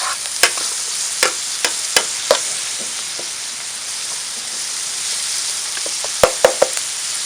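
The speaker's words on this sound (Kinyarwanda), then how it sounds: "nashyiriyemo rimwe igitunguru, seleri na poiro, byose ngiye mbishyiriramo rimwe." Chopped onion, celery and leek frying in a pan give off a steady broadband sizzle with scattered sharp clicks and stirring knocks, clustered near the start and again toward the end, with no voices.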